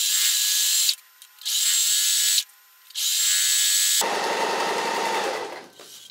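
A sewing machine stitches a zip in three steady bursts with short pauses, then a noisier, rougher whirring stretch continues before trailing off.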